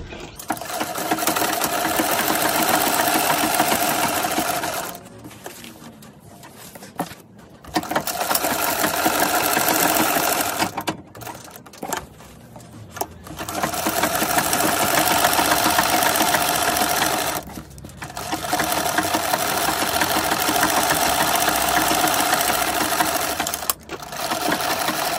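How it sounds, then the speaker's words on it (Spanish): A sewing machine stitches a small dress for a dog, running in long steady mechanical bursts separated by short pauses, close and alone. "Ahora vamos a ir a coser."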